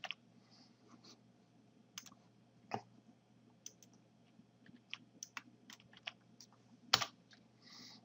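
Computer keyboard keys and a mouse clicking during a copy and paste, a sparse run of close, light taps and clicks with one sharper click near the end, over faint room hum.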